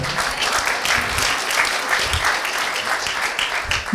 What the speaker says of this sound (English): if you're clapping for Jesus, you can do it better.